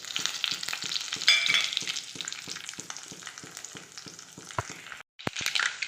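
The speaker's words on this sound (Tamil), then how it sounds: "கடுகு சீரகம்லாம் நல்லா பொரிஞ்சிடுச்சு" Mustard seeds, cumin and fenugreek fry in hot oil for a neem flower kuzhambu, a steady close sizzle studded with regular crackling pops, briefly dropping out near the end.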